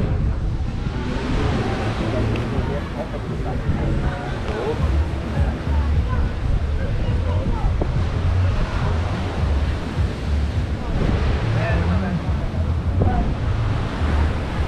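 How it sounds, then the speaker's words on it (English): Waves and wind on the Lake Victoria shore at Entebbe, Uganda: a loud, constant wash of surf and gusting wind buffeting the microphone, with a low rumble throughout and no pause. "I don't know whether you guys can even hear me because the waves right now."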